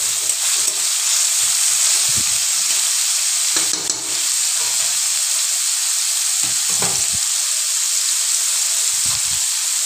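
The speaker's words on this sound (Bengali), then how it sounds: "এবারে খুন্তির সাহায্যে ভালো করে নাড়িয়ে নিচ্ছি।" Chopped tomato frying in a pan while being stirred with a spatula, a steady bright sizzle with occasional scraping strokes, close and continuous without talk.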